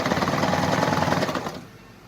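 Sewing machine stitching fabric while fixing a zipper, a steady, loud, close mechanical rattle running continuously before trailing off at the end, with no talk.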